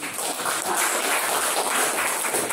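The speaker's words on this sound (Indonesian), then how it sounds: "Baik, tepuk tangan buat kita." Applause from a classroom of students, a steady broadband patter of many hands clapping continuously and fairly loud for a few seconds, with no talking over it.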